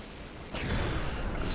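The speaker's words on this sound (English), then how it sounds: "Nope, he got hit by that laser cannon." A sudden laser cannon strike in the vehicle combat game Crossout lands with a bright burst that turns into a sustained, crackling roar. The hit is loud and close and follows a quieter mechanical rumble.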